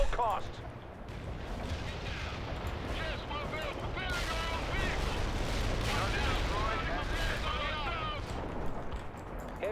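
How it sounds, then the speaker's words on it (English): Napalm airstrike explosions and battlefield fire in World in Conflict, a continuous rumbling barrage of blasts and crackling gunfire filling the scene, with a voice talking over the din. "let's just drop more napalm. We'll drop some airstrikes"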